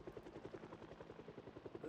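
A helicopter flies nearby, its rotor giving a steady rhythmic chop that pulses evenly throughout at moderate loudness, with a low engine drone underneath.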